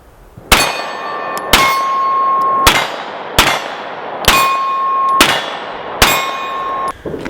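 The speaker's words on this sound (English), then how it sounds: "Now let's do a little bit of shooting." A CZ P10c pistol fitted with an RMR sight fires seven loud shots at a steady, unhurried pace, each crack followed by a long ringing metallic clang that fades before the next.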